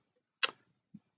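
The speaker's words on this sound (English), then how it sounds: "That's my kettle." Electric kettle clicking off, one sharp crisp click followed by a faint soft thud, isolated in an otherwise quiet room.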